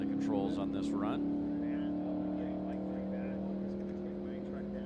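A C fuel altered drag race car drones steadily with a strong, sustained engine tone during a speed-week run, heard from a distance under a commentator's voice, which fades after the first second.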